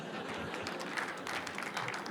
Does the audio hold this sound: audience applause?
yes